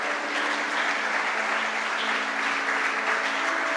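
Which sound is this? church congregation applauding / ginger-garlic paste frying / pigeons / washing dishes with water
church congregation applauding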